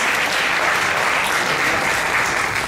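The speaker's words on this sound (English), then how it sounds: "Big round of applause once again." Sustained crowd applause at an FTC robotics qualifier awards ceremony for the Polaris Robotics team, an even wash of many hands clapping with no break.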